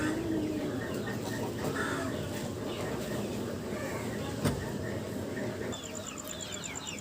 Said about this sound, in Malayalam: അപ്പോൾ ഇപ്പോൾ നമ്മുടെ കോഴി കളക്ഷനിൽ 23 കോഴികളുണ്ട്.